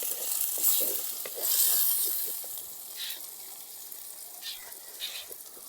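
Onions and tomatoes frying together in a pan for an old-style egg curry give a soft, low sizzle with spoon scrapes and a few brighter hissing bursts. Fairly quiet and close, with no talk.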